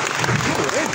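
Audience applause at a book launch event, a short burst of clapping with voices mixed in throughout.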